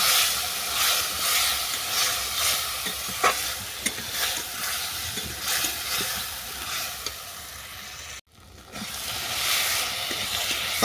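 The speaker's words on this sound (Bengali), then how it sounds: "এই সমস্ত উপকরণ আমি ভালো করে কষিয়ে নেব।" Spices and chili powder sauté in hot oil in a pan for a mustard-oil fish curry with kundru, a steady loud sizzle broken by scraping stirs and a brief pause near the end.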